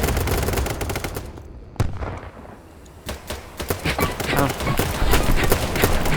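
Automatic weapon fire in the shooter game BattleBit Remastered, loud rapid bursts that stop for about a second, then single shots and renewed close bursts, with players talking excitedly over it.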